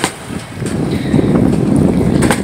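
Wind gusting on a bright, sunny day outdoors, a steady broadband rush that swells and stays loud across the whole moment, with no voices.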